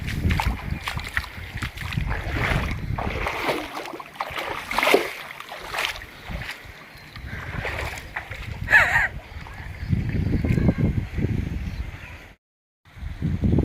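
Rainwater runs across a flooded flat rooftop after heavy rain, a steady sloshing, splashing flow close by with scattered footsteps, pausing briefly near the end before resuming.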